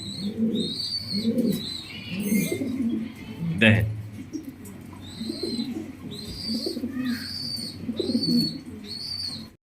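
Pakistani Royal Teddy pigeons coo in repeated soft, throaty phrases close by, with a few chirps and a brief flutter, while someone talks briefly over them.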